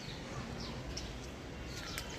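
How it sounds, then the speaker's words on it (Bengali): House sparrows on a rooftop garden give a few faint, scattered chirps over a steady wash of outdoor background noise. "এই যে চড়ুই পাখি, এত চড়ুই পাখি আসে।"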